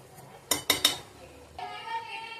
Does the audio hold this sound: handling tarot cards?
no